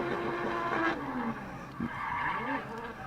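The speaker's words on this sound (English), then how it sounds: "we see those rear wheels start to spin and we accelerate down the front straight here at Hampton Downs" Drift car at Hampton Downs, rear wheels spinning as it accelerates down the front straight during D1NZ Pro-Sport qualifying: a loud, close engine roar with squealing tire tones, rising and falling through the clip.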